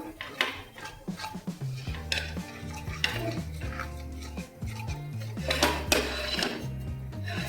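Spoon stirring masala with red chilli powder in hot oil in a pan for paneer bhaji, with steady scraping and light metallic clinks under continuous background music.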